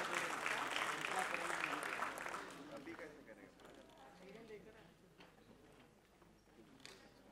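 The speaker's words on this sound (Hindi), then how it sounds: "जोरदार तालियां हो जाए प्लीज." Audience applause at a live charity concert stage event, a burst of clapping that is loud at first and then thins out and fades over several seconds, with a voice speaking over it.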